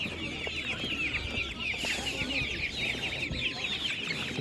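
Several chickens cluck and chatter continuously at close range amid a busy, noisy poultry market background, with no clear talking.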